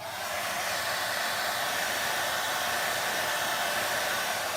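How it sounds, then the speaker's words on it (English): A hair dryer blows steadily and loudly on wet paint, a constant airy roar that holds unchanged throughout with no other sounds. "use my blow dryer"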